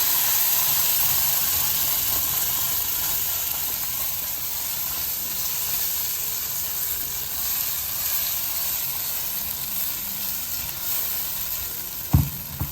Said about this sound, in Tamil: இது ஒரு 5 நிமிடங்கள் நல்லா அந்த எண்ணெயில் கொதிக்கணும்.